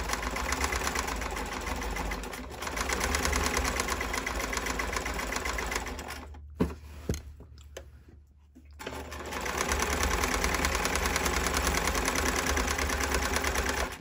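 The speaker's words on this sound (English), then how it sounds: "Now, as I'm sewing, I'm going to be careful that the zigzag doesn't touch the seam" A sewing machine running a zigzag seam finish along boxer shorts fabric, with a steady fast mechanical whir that pauses briefly with a few clicks midway before resuming at full pace.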